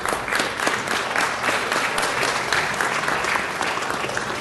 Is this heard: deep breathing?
no